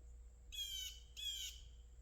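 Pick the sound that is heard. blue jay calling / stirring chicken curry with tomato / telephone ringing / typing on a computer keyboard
blue jay calling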